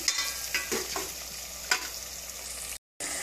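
Chicken drops into a pan of browned onions for chicken curry and fries with a bright, dense sizzle, stirred with a few scraping clicks, close and loud, cutting briefly to silence near the end.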